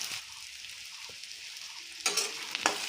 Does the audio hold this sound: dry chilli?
yes